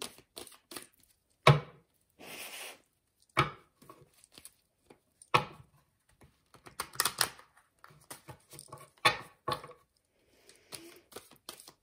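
Oracle cards being shuffled by hand, a series of short papery riffles and slaps in irregular bursts, close and fairly quiet, with no talking.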